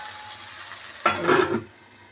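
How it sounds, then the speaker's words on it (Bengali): Cauliflower florets stirred in a kadai over faint frying, a single brief scraping, sizzling stir of about half a second standing out from quiet background hiss. "ফুলকপিগুলোকে একটু কড়াইয়ের মধ্যে দিয়ে নাড়তে থাকি"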